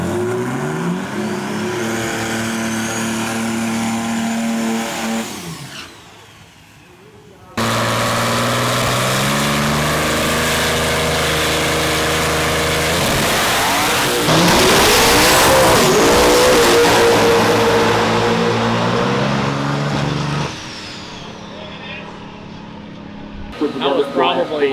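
A heavy diesel pulling truck, nose-heavy and running small tires, revs loudly and close up in long sustained roars that climb and fall, with a brief lull between pulls and people talking under the engine.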